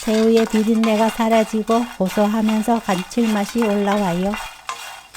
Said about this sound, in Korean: 팬에 새우 넣고 볶아주세요.